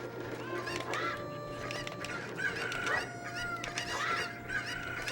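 Chickens cluck and squawk in Zelda: Ocarina of Time, several overlapping clucks and honk-like calls in an irregular rhythm, fairly close, above a steady low background hum.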